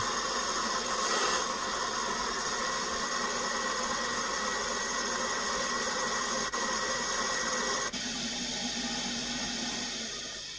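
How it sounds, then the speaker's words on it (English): A furnace blower motor runs during basic checks as the unit heats up, giving a steady, continuous mechanical hum and airflow rush that holds at an even level and eases off slightly near the end, with no talking. "Blower motor's running, I'm just doing the basic checks."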